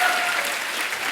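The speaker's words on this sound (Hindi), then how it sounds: "जोरदार ताली" Studio audience on a comedy show breaks into loud, dense applause, a brief continuous burst of clapping.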